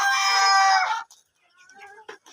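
A rooster crows loudly and close on a poultry farm where the birds are fed papaya leaves, the long call lasting about a second, followed by softer clucks and faint chicken calls.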